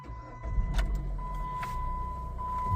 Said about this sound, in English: first you will start your vehicle,